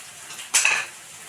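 Ginger and garlic crushed together with four green chillies get stirred in a pan: one brief metallic scrape and clink of a spoon against the pan, close and fairly loud, lasting about a quarter second before quiet.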